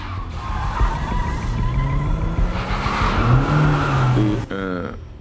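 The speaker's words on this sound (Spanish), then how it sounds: "Se subió a un auto con otro tipo y comenzaron a conducir en círculos afuera del taller." A car circling outside a mechanic's workshop, tires squealing in long sliding skids over a revving engine, loud and close, ending in a sharp rising whine.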